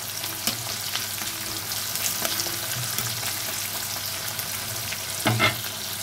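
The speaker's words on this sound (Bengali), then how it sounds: "এখন পেঁয়াজটাকে আমি হালকা ভেজে নেব।" Sliced onions frying in hot oil, a soft steady sizzle close by with occasional spoon scrapes and a brief clatter near the end, no talking.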